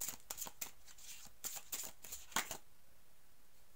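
A deck of oracle cards being shuffled close by, quick soft riffles and flicks in repeated bursts for about two and a half seconds before it goes quiet, with no talking.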